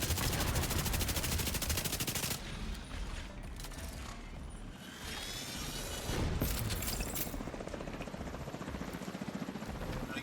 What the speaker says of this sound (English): Oh, it was an MG.